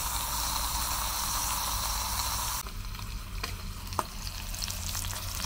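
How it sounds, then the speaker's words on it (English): Bacon and sausage frying together in a pan over a camp stove, a loud steady crackling sizzle that suddenly drops to a softer hiss partway through, then a single sharp tap, close with no speech. "Now we've got some bacon cooking with the sausage."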